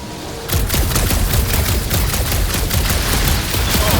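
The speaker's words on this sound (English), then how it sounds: "I got eyes on this gunked up reactor. A couple of shots should bring it down." Loud, dense gunfire from Marvel's Guardians of the Galaxy video game, shooting at a gunked-up reactor. A continuous volley of rapid shots with booming impacts starts suddenly and keeps going for about three and a half seconds.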